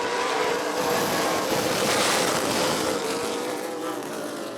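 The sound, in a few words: ARCA Midwest Tour race cars racing at Rockford Speedway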